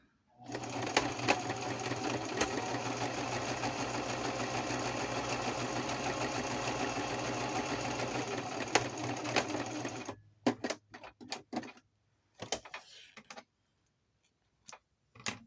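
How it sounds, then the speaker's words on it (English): Sewing machine running a straight stitch, a fast steady mechanical whirring for about ten seconds, close and alone, followed by a few short bursts and clicks as it stops and starts. "I'm going to sew from here to here and here to here. And I'm just doing the straight stitch down."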